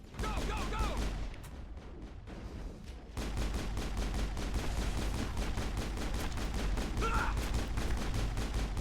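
Rapid, sustained gunfire from the Marksman ability in Mass Effect, a dense run of sharp shots firing steadily for several seconds, loud and close, with a short lull near the start before the barrage resumes.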